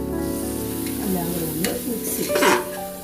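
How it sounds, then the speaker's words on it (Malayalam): Mixed masala and tomatoes roasting in a pan for vegetable biryani: a steady sizzle under scraping stirs, with a few louder scrapes of the spoon against the pan. "നന്നായിട്ടൊന്ന് റോസ്റ്റ് ചെയ്തെടുക്കും"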